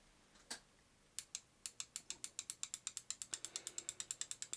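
Micro switches inside a Quickshot 2 Turbo joystick clicking, a couple of isolated clicks then a fast, steady run of sharp close ticks, crisp and distinct against a quiet background.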